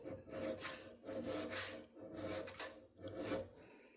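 A hand file rasps across the metal of a 1911 mainspring housing clamped in a vise, four steady back-and-forth strokes with brief pauses between them, close and fairly quiet with no talking.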